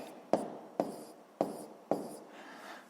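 Four crisp, evenly spaced pen strokes land on paper, each a sharp scratch fading quickly, close and isolated while numbers are being written down for a school physics exercise.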